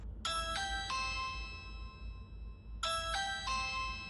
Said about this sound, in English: And I rang the doorbell.